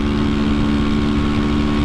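A Honda Twister 300 motorcycle engine runs steadily at close range, a loud, even idle-like drone with a constant low throb and no talk over it.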